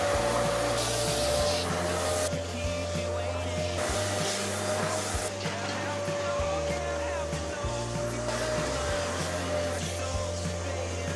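A vacuum cleaner runs steadily and loudly on the bottom plates along a basement concrete wall, sucking up sawdust and wood chips, with a constant whine and shifting low rumble throughout.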